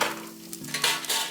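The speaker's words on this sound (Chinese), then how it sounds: "那焯好水的芦笋跟玉米笋放进来，稍微给它煎一下。" Blanched asparagus and baby corn pan-fry in a hot pan with a steady, close sizzle, broken by brief scrapes and stirring clinks as the vegetables are moved around.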